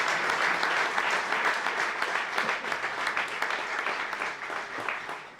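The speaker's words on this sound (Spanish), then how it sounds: "Les voy a pedir un aplauso para nuestros ponentes" Sustained applause from an audience for panel speakers at a gastronomy and culture round-table, dense steady clapping at moderate distance lasting several seconds and tapering slightly at the end.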